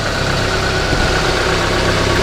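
An old barn-find car engine idles smoothly and steadily, a loud, close, continuous even hum with no rattle or change in pace.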